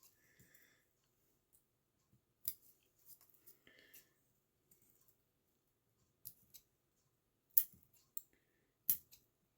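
Small scissors snip wispy branches on a miniature bonsai being shaped in dragon style, scattered crisp clicks and cuts, some in quick pairs, spaced across near-silence.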